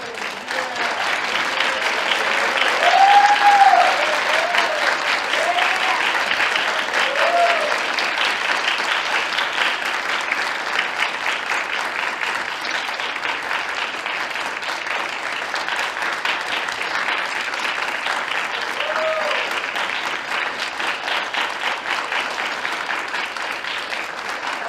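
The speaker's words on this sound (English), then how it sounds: "I needed the crew team to stand up and clap hard for our coach." Long, steady applause from an audience at a school spring athletic awards and senior recognition ceremony, clapping for the crew coach, with a few faint whistles and cheers rising early and again midway.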